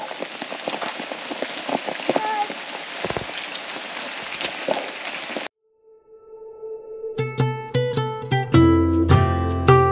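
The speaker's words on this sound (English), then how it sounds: "It is raining." Rain patters steadily on a surface at Ellenborough Falls, a dense hiss of drops for about five seconds before it cuts out and is replaced by unrelated tonal music.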